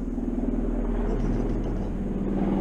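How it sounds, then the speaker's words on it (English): Helicopters flying over make a steady, low throbbing rumble that hangs in the air from a distance, even and unbroken for a few seconds, with no talking. "Now here comes helicopters."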